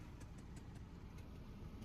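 A Maruti 800 car engine idling, a low steady rumble with faint ticking, quiet and fairly distant, heard alone without voices.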